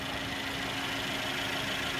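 A 2017 Mercedes-Benz C300 coupe engine idles steadily, a smooth, even hum with no revving, close and continuous for the whole stretch.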